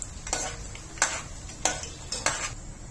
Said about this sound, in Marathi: आता आपण ह्याच तेलामध्ये शेंगदाणे सुद्धा तळून घेऊया